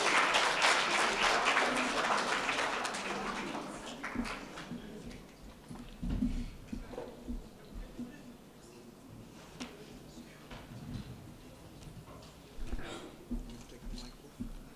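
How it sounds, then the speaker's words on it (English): Applause from a Career Expo audience fills the room loudly at first, then thins out into scattered claps and stray noises under a murmuring background. "Give Philip a round of applause."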